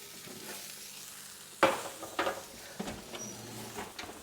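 Roasting broccoli being stirred in a hot pan: a soft background sizzle broken by a few sharp scraping clatters, the loudest near the middle, followed by lighter scrapes, with no talk.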